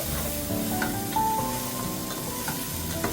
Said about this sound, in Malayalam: ഇനി നമ്മൾ സവോള അരിഞ്ഞിടുക